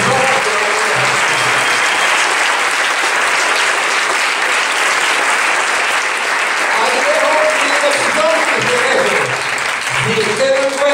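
A standing audience at a business orientation talk applauds loudly and steadily for about eleven seconds, a dense wash of many hands clapping with a few voices rising over it toward the end.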